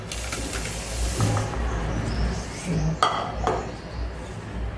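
Cooked dal tipped into a metal pot, with scattered clanks and clinks of the vessel and utensil against a low kitchen background, a few sharper knocks near the end.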